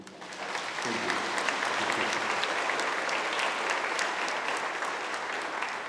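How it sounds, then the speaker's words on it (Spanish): A church congregation at a morning Mass bursts into steady applause, a dense wash of many hands clapping together that holds at an even level throughout. "Medicina, un aplauso"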